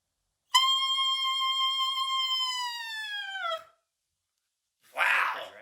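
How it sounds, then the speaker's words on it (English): A clarinet mouthpiece with a single reed, blown alone without the rest of the instrument, gives one loud, piercing, siren-like squeal that holds steady for about three seconds and then sags in pitch. A short breathy burst of noise follows after a pause. "without the rest of the clarinet, just the mouthpiece, it sounds like this"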